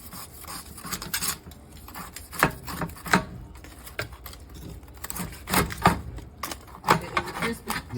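A knife slices through a crispy pork roast, giving a series of sharp, crackly crunches at an uneven rhythm, some close and bright, with quiet gaps between the cuts.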